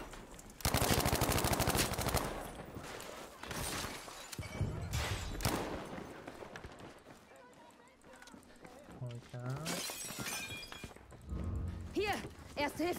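Battlefield V gameplay with loud bursts of automatic gunfire, some sustained and some short, mixed with running, impacts and game effects; someone talks over parts of the action.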